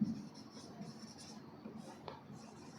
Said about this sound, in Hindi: तो ये लिखेंगे यहाँ